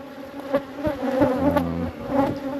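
Honeybees buzz loudly and close around an opened backyard hive, a dense droning hum with individual bees swelling past, no voices.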